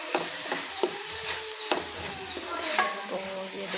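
A spatula scrapes and stirs chicken Manchurian filling with tomato ketchup and red chilli sauce in a hot pan, giving a steady sizzle broken by several sharp knocks and scrapes, close and with no talking.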